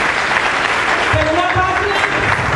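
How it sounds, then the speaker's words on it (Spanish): Large audience applauding at a national youth assembly on youth and conflict in Colombia, with steady dense clapping that fills the whole stretch and a voice talking over it midway. "aquí un aplauso muy grande para Gloria Cuartas"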